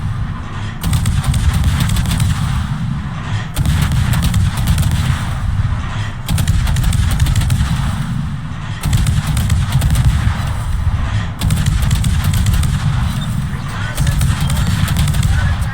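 Secondary guns on the warship Colbert fire in the World of Warships game, making loud, dense rapid gunfire in long sustained bursts separated by brief pauses, with a voice talking over it.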